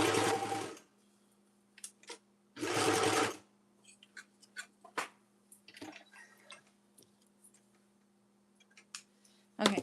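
Sewing machine stitching around the spine of a fabric journal, two loud running bursts of a second or so each, followed by scattered quiet clicks and handling noises with a steady low hum underneath.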